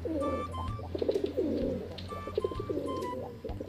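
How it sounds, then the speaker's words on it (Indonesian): A pigeon coos nearby in soft, repeated throaty phrases, with a little background noise and no talking. "ini ada induk burung merpati"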